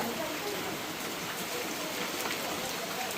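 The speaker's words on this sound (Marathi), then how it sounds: "होत असताना पाऊस पण बघा किती जोरात आला. अजून जोरात आलेला, आता थोडा कमी झाला." Heavy rain pours steadily in a Konkan village, a dense, continuous hiss of drops hammering surfaces close by, loud and unbroken throughout.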